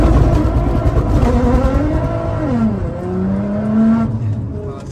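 A 2009 Nissan GT-R widebody holds at high revs for a launch on a cold day, a loud, close engine drone with rising and falling tones that sweep upward and then ease off.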